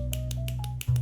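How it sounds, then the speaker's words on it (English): Fingers snapping as applause at a poetry night, six crisp separate snaps in a quick uneven run over a faint steady hum. "This is how you clap. You snap your fingers."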